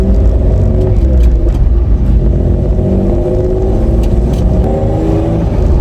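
A Toyota Tacoma pickup fitted with 4.56 gearing accelerates on the road through third gear near 40 mph, its engine revving high and loud in a steady, continuous drone heard close from inside the cab.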